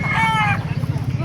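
A rooster crows once, loud and close, at a live chicken market in Bocaue, Bulacan, the call fading after half a second into a steady low murmur of crowd and market noise.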